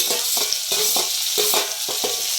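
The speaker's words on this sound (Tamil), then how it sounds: "எல்லாத்தையும் போட்டு வதக்கலாம்" Green chillies, onion, ginger, garlic and curry leaves sizzle in a pan while being stirred, with a steady frying hiss and rhythmic scraping strokes about every third of a second.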